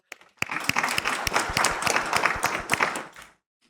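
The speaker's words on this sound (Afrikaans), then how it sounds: "Kom ons gee sommer vir hulle almal 'n lekker hande klap." A church congregation at a Sunday service breaks into warm applause, a dense run of clapping that builds quickly and fades out after about three seconds.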